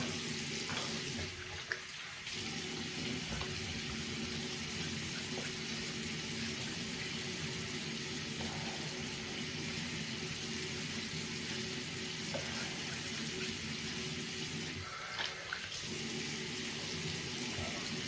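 Tap water runs steadily into a sink for a quick rinse during a head shave with a RazoRock Game Changer .84 safety razor, a constant close hiss that continues without pause and with no talk.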